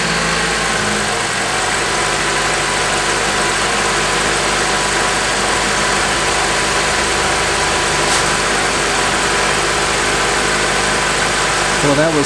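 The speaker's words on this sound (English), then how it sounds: "the engine turned over" A car engine turns over after a battery jump start and runs at a steady idle, a constant mid-low rumble throughout, with a brief voice near the end.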